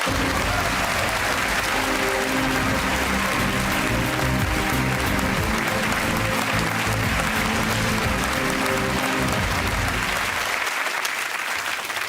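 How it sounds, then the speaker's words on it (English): Studio audience applause on a National Lottery game show, a long loud sustained wash of clapping with a cheerful crowd texture, cutting off sharply near the end. "They deserve a round of applause."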